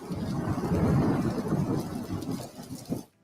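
Rain falls steadily alongside a low rolling thunder rumble that fills about three seconds at a loud, close level, then cuts off abruptly at the end.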